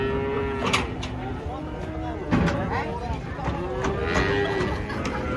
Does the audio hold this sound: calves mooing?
yes